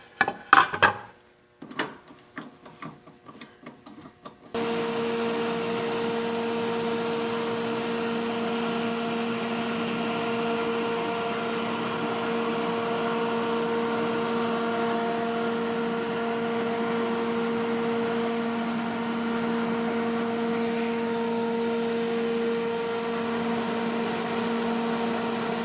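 A multi use cutter spins up after a few knocks and handling sounds, then holds a steady whine and hum while shaping the edge of a flooring panel, with no voices.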